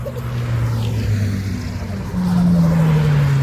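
An E86 drift car with a badly hurt engine out on track at Castle Combe, a loud droning engine note that swells and rises in pitch partway through as it pushes on.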